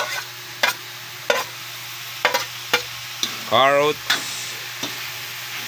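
Pancit ingredients, including carrots, get stirred in a pan with a spatula that scrapes and taps rhythmically against the metal over a faint sizzle. A voice speaks briefly mid-way.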